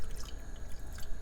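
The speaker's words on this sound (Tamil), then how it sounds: "இப்போ தேவையான அளவு தண்ணி ஊற்றிக்கலாம்." Water poured from a glass into a pan of sautéed mutton for bone soup, a soft continuous splashing and trickling pour, fairly quiet and close.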